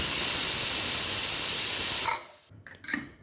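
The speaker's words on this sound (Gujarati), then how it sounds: "ટામેટાને બાફવા માટે કુકરનું ઢાંકણ બંધ કરી ગેસ ઉપર મૂકી 3 વિસલ આપણે કરી લઈશું।" A pressure cooker on a gas stove, cooking tomatoes for tomato soup, releases a loud, close rush of steam for about two seconds. It cuts off abruptly, leaving faint clatter.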